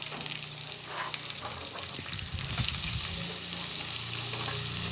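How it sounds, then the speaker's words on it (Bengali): Capsicum pieces frying with browned onions in a pan, a continuous soft sizzle with scraping stirring strokes in the middle, fairly quiet and without talk. "এবার এর মধ্যে দিয়ে দেবো আমি ক্যাপসিকাম টুকরোগুলো"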